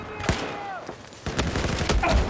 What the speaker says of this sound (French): On nous tire dessus, on nous tire dessus.